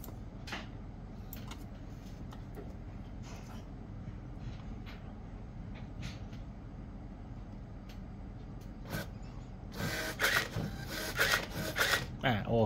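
An Epson TM-m30III receipt printer runs over quiet background ticks and clicks, then breaks into a louder burst of rapid buzzing print feed and a paper tear toward the end.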